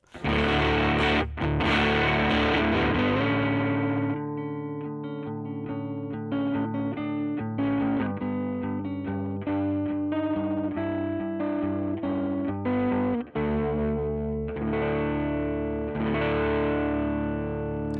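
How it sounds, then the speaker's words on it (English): Electric guitar driven through an Air Sonic overdrive pedal with its boost section pushed hard, giving a thick, slightly fuzzy, non-clean distorted tone; loud sustained chords ring out continuously with a few brief breaks, no voices. "So with this Air Sonic, we're really pushing that boost section, and you can hear how it's not a clean boost."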